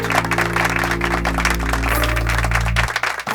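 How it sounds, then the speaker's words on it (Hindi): A crowd claps over a steady low hum, the applause dense and continuous before thinning out near the end. "ताली बजाने के लिए हाथ नहीं चल रहे हैं"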